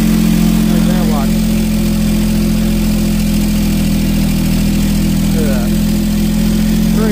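The engine of a Skyjack 6832RT scissor lift runs steadily up close after an alternator repair, with a loud, even low hum throughout. Someone speaks briefly over it.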